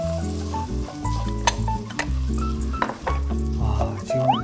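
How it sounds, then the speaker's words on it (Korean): Seaweed and beef stir-fry in a pot with a steady sizzle, broken by repeated scraping, clinking stirs of a utensil against the metal. "이렇게 해서 볶아주세요."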